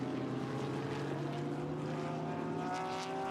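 GT race cars at Mandalika circuit rolling slowly down the pit lane during a GT World Challenge Asia race, a steady droning engine hum with harmonic tones, continuous and moderately loud throughout.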